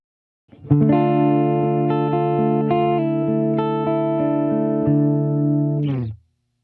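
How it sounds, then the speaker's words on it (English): A clean electric guitar plays a sustained run of notes, dry with no echo, ringing steadily for several seconds before cutting off. "here's the guitar with no delay on at all"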